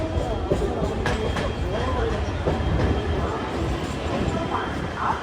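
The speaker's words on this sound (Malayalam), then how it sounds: "ട്രെയിൻ ഇതാ സാന്ത്രഗാച്ചി സ്റ്റേഷനിലേക്ക് എത്തിക്കൊണ്ടിരിക്കുകയാണ്" A train pulling into Santragachi station with a rumbling, clattering rolling sound and metallic squeals, heard up close against platform noise while someone talks over it.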